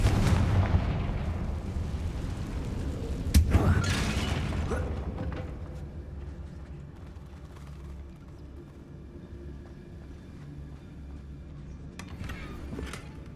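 A Confringo blasting spell explodes in Hogwarts Legacy, with a rumbling roar at the start and a sharp loud blast a few seconds in, then a long fading rumble and scattered debris clatter.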